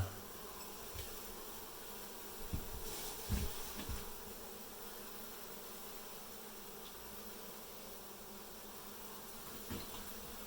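Honey bees buzz in a continuous, fairly faint drone during a comb cutout from a building in Dorrance, Kansas, with a few soft knocks and handling noises near the start.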